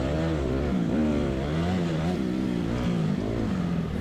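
A dirt bike engine revs hard on a motocross track, a loud, continuous buzzing drone that rises and falls in pitch with the throttle, close to the microphone.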